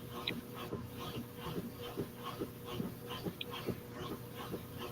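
A dog whimpers softly and shuffles around on a bed, with repeated faint whines and rustling movements at close range and no talking.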